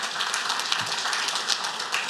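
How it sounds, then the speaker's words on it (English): Audience applause at a real estate awards ceremony, a steady wash of many hands clapping, moderately distant and even, without talk. "let's have a big round of applause for"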